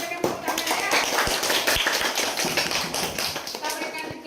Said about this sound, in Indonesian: Kedua kita berikan tepuk tangan ya